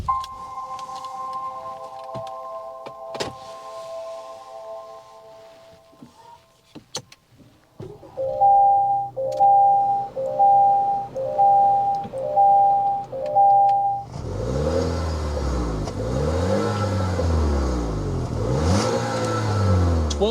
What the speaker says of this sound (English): start this TLX up so you can hear that exhaust note